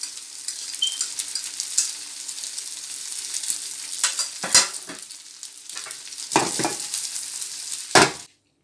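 A cabbage omelette fries in a pan, its other side cooking with a steady close sizzle broken by several louder bursts of spatting and scraping from a utensil against the pan.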